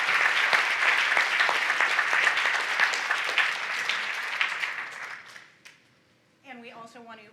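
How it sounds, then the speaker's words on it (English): Audience applause at a public event on California's Master Plan for Aging, a steady dense clapping that fades out after about six seconds before a voice starts speaking. "Give them all one round of applause."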